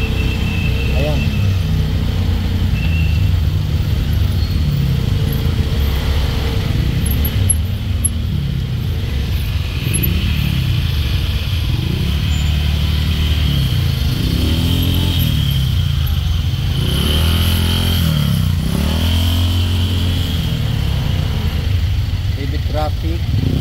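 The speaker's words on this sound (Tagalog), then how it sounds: "Traffic so far" Busy city street in Zamboanga City near Ateneo, with cars and motorcycles passing and idling; loud, continuous engine rumble with rising and falling revs from nearby vehicles, and people talking over it.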